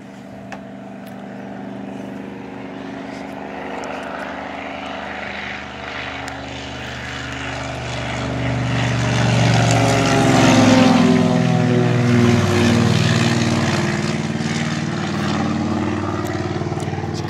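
A crop-duster propeller plane drones overhead, its engine hum swelling louder as it passes closest, then easing slightly while staying steady and continuous.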